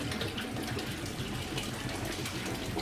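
Water pours steadily into a koi quarantine tank at a garden pond in the UK, a constant soft splashing gush with no break and no talking.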